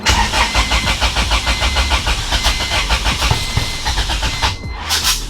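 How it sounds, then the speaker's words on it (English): A Honda Civic with a B-series engine swap cranks repeatedly with a rapid, rhythmic starter whir, loud and close, then cuts out briefly near the end. "I'm starting the car now to see if this works"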